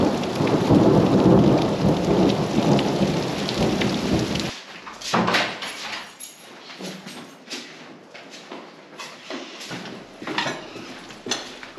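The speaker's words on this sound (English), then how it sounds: "The thunder is coming. You hear it?" A heavy rainstorm pours loudly with rumbling thunder, then the roar cuts out and scattered thunder and rain continue more softly nearby.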